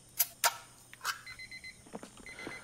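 A kitchen timer alarm going off in the Mist Survival game, a short run of evenly spaced high beeps repeating twice, mixed with clattering item and menu sounds.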